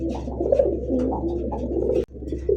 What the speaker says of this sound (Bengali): বাকবাকুম ডাক